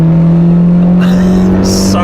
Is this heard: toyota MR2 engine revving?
yes